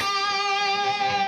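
A sustained electric guitar note with vibrato rings out alone, bright and clear, a slow lick.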